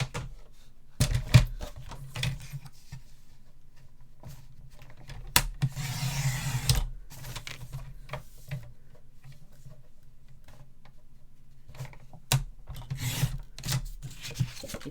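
A paper trimmer slices black cardstock in several separate rasping strokes, each a short scraping burst set apart by quieter handling noises and faint clicks.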